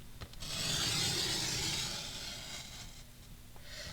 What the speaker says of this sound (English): And we're going to cut down through our score line, but we're going to stop at this box down here.